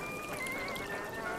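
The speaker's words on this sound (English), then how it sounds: "Then we're going to strain the vodka and pour it in" Strained vodka poured from a shaker into a cocktail glass for a vodkatini, a soft, steady trickle heard alone at close range.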